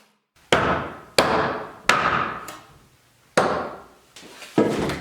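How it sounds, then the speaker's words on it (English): Hammer driving nails through 2x8 lumber boards, temporarily joining them for a wooden power rack: five sharp, loud, ringing blows spaced unevenly, each decaying quickly, with no talk. "here I'm temporarily nailing them together so I can flip it over and nail from the bottom"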